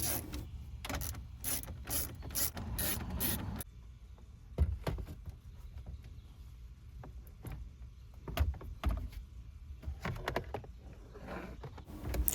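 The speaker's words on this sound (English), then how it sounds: "The radio can be installed with the 4 screws" Ratchet clicking while screws are driven in to mount the radio in a Jeep Wrangler JK dash, several short bursts of rapid ratcheting near the start, then sparser clicks and handling knocks across a quiet interior.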